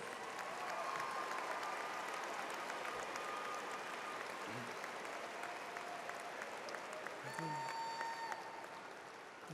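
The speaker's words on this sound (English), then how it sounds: "Please join me in applauding the achievements of these honors students." Audience at a December commencement ceremony applauds honors students, a steady dense wash of clapping lasting throughout without pause.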